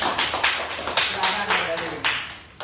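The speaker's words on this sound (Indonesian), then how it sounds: "kasih tepuk tangan untuk kelompok 2" Small group of classmates clapping for a presenting group in a teacher-training class, a sparse run of about ten distinct claps with a voice faintly underneath.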